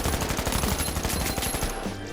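An ARN rifle fires rapid, evenly spaced shots in the video game The Finals, a loud, continuous burst of gunfire that stops shortly before the end.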